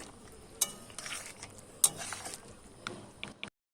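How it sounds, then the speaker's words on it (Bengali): Chicken curry with water added, simmering in a pot, is stirred with a spoon: several soft scrapes and a few sharp metallic clinks against the pot, close and fairly quiet, before the sound cuts off. "এবার হালকা করে নেড়ে দেবো"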